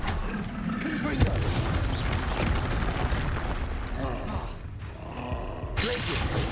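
A Confringo blasting spell bursts in Hogwarts Legacy amid dense, continuous booming and roaring combat effects, loud throughout, with a voice talking over the chaos.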